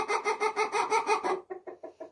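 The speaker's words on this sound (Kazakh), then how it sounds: "тауықтарым." Hens in a coop cluck in a quick, steady series of close pulses, with a fainter, sparser run of clucks following after a brief pause; no voices.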